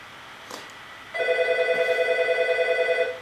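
A telephone rings indoors during a church homily, sounding as a steady electronic trill that starts abruptly and holds for about two seconds, loud and close, with no talk over it.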